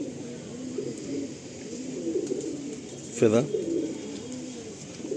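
Tournament-quality dobaj pigeons coo softly in a low, rolling murmur that runs steadily throughout, with someone talking over them and a brief louder burst near the middle.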